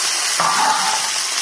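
A spatula stirs vegetables frying in oil, with potato and Malabar spinach stalks in the pan, giving a steady loud sizzle and a scraping stir partway through.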